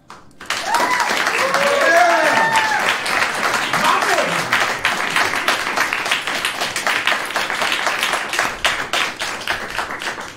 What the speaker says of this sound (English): Yes, let's clap in celebration.